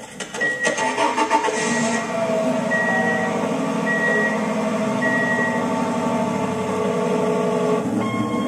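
Car engine cranking with a rapid stuttering churn, then catching and settling into a steady running hum, with periodic high beeps and a faint rattle over the idle.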